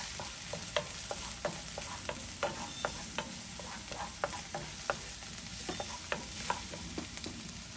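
Vegetables sautéing in a pan, a steady sizzle punctuated by a regular run of sharp spoon scrapes and taps against the pan, close and alone without speech.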